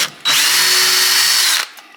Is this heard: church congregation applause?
no